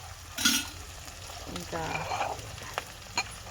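Crushed garlic and onions frying in a pan give a steady close sizzle with a few sharp pops and clatters, and someone says a brief word over it.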